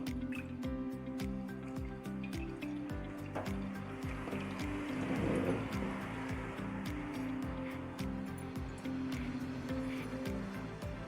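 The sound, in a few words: washing raw mango under water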